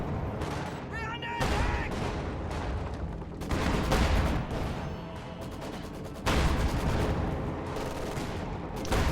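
A StuG assault gun in a World War II strategy video game fires rapidly, with a dense barrage of gunfire and explosions in bursts amid battle noise.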